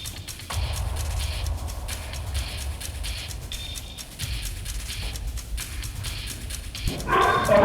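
A guard dog barks repeatedly at intruders, its loud close yips and bow-wows running continuously through the clip over street noise, with a louder burst near the end.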